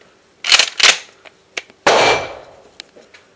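Shotgun at an outdoor shooting range being reloaded: two sharp metallic clacks of the action close together, a few lighter clicks, then a louder mechanical slam with a short decaying ring, followed by faint scattered taps.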